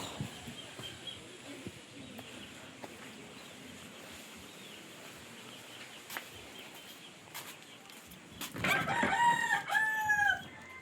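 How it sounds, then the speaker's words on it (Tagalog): A rooster crows loudly once near the end, over a steady rustling outdoor background with faint scattered noises. "Makakarinig naman po tayo ng tugaok ng manok."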